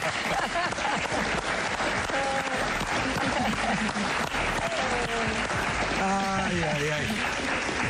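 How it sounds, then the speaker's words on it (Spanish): A crowd claps loudly and continuously while voices call out over the applause. "un aplauso para María tía."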